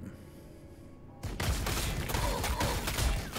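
Troops firing in the Warhammer 40,000: Sanctus Reach video game: after a quiet moment, a sudden, steady volley of gunfire starts and continues as a dense, rattling barrage.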